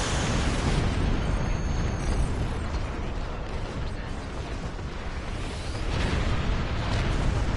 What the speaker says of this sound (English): Oh, we got caught in a war explosion.